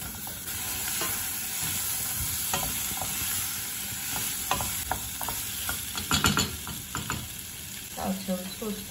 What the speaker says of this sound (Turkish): havuç ve patatesi kavuruyorum